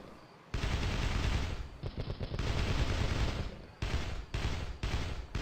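Light machine gun fire in a video game, several long sustained bursts of rapid close shots separated by short pauses, loud and dense with no talking over it.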